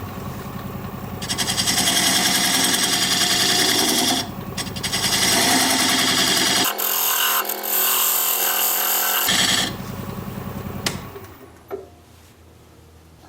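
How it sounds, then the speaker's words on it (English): Diamond point tool cutting a tenon on sycamore spinning on a wood lathe, a loud steady whirring with gritty scraping, stopping briefly partway and then winding down at the end. "I'm going to use this diamond point tool to square up the sides of the tenon."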